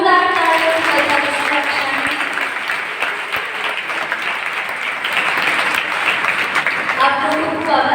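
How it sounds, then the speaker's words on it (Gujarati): An audience applauds loudly and steadily at a college talent morning programme, a dense crowd clapping that fills the room for several seconds and tapers slightly near the end, with voices faintly mixed in. "જોરદાર તાળીઓ બજાવી"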